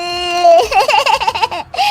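A woman imitates a baby crying, with rising and falling wails and sobbing breaths, loud and close, with a short gap before a final cry.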